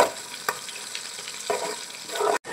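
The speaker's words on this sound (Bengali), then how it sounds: "তো এখন আমি পেঁয়াজটাকে একটু লাল লাল করে ভেজে নেব।" Chopped onion fries in soybean oil and ghee with spices for a pilau, a steady hiss of sizzling broken by a few sharp stirring clacks and a louder scrape just before it cuts off abruptly.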